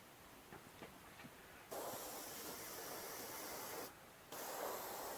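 A Paasche Talon gravity-fed airbrush with a top-mounted cup sprays in two soft, steady hissing bursts separated by a short pause, quiet and close, with faint clicks before the first burst.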